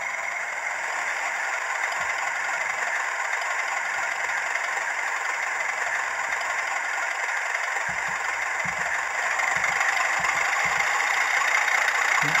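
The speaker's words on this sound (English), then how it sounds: "now the engine's running, we can test out function 5," A Hornby TTS sound-fitted class 31 OO gauge model diesel locomotive runs steadily at idle, then its engine note notches up, a continuous mechanical drone with a light rattle, close and fairly loud with no one talking.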